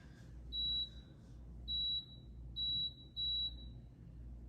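A Power XL cooker's control panel beeps as it is switched to the saute setting: four short high electronic beeps, clear and close, spaced about a second apart, over a low steady hum and no talking.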